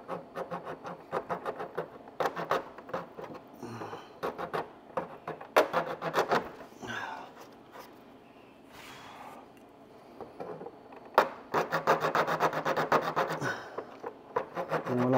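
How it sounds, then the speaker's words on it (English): A metal file rasps a hole in a hold-down bracket for an Indian Pursuit, with bursts of close, repeated scraping strokes separated by brief pauses. "I'm basically just filing the hole, making it look really nice and clean"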